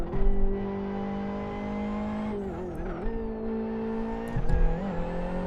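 A rear-wheel-drive race car in the Live for Speed racing game holds a steady buzzing engine drone, its pitch dipping and climbing through gear shifts, with brief tire squeal and no talk.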